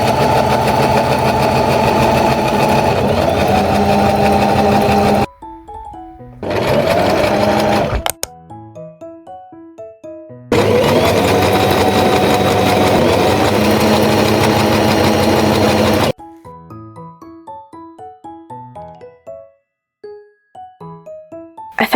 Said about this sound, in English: so I'm going to use machine stitch for that.